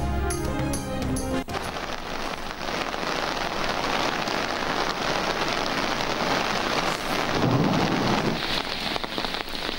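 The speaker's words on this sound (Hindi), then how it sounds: "गिलगित बल्तिस्तान और आज़ाद कश्मीर में बारिश" Steady heavy rain pours in Gilgit-Baltistan and Azad Kashmir, a dense continuous hiss close and loud, after a brief musical opening, with a soft low rumble near the end.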